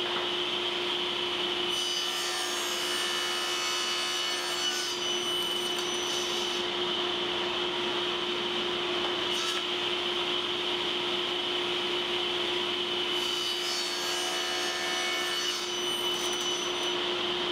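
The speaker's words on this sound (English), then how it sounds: "I'm going to use a miter gauge and I'm going to simply cut miters on the ends of all of our pieces" A table saw with a miter gauge cuts 45-degree miters on the ends of wood pieces, its steady motor whine running throughout while several short cutting passes rise and fall over it, close and without speech.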